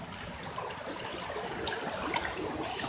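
Deep floodwater running down a city street, heard as a steady, faint rushing hiss with small splashes and a brief sharper splash.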